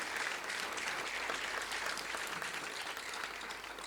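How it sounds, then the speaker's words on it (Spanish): A church congregation applauds during a sermon, steady, even clapping heard from a distance throughout, fairly soft and with no voices standing out. "¿Puedes darle un aplauso al Señor por eso?"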